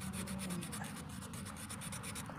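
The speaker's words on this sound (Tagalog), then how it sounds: "lilihain natin, pero yung tinira ko dito na liha ay manipis lang ito or hindi masyadong magaspang" Fine, not very coarse sandpaper rubbed steadily over a small electric motor shaft, a close, continuous scratchy rasp with quick repeated strokes.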